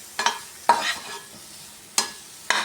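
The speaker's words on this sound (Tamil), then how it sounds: "தீயை சிம்மில் வச்சு நல்லா வதக்கி விட்டு எடுத்துக்கணும்" A spoon scrapes through coconut filling sautéing in a pan for banana-leaf kozhukattai, four distinct stirring strokes over a soft, steady sizzle, close up.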